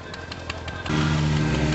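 A Ducati motorcycle at a vintage club show, struggling to start, catches just before the one-second mark and settles into a steady, loud low rumble, with no talk.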